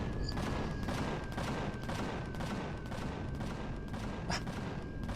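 Sustained automatic gunfire from weapons in the video game Empyrion Galactic Survival, a dense rapid stream of shots running steadily throughout at fairly loud level, with a constant tone underneath.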